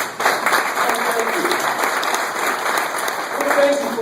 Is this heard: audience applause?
yes